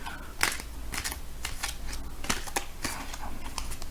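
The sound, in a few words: shuffling a printed Rider Waite tarot card deck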